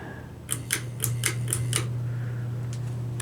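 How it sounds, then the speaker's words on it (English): Hampton Bay Minuet II ceiling fan with bleached oak blades running on low in reverse, a steady low motor hum under a quick run of sharp rhythmic clicking and ticking, then quieter intermittent ticks. "Here is low in reverse. And like I said, these fans just make a lot of noise"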